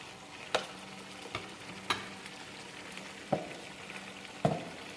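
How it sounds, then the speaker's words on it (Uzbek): Onions and tomatoes fry in a pan with a constant soft sizzle, broken by a few sharp clicks of a utensil against the pan at irregular intervals. "Piyoz, pomidor qovurilib"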